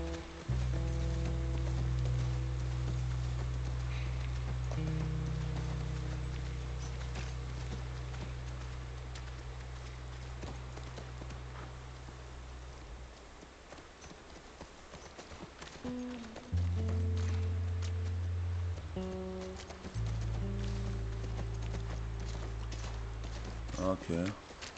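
A horse's hooves clip-clop steadily while being ridden in The Last of Us Part I on PC: a rhythmic, moderately loud trot runs throughout, over game ambience and occasional voices.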